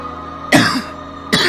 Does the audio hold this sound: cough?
yes